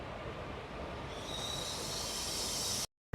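The Narasapur Express rolls into Palakollu station with a steady, loud rumble and hiss, high wheel squeal rising over the noise before it cuts off abruptly.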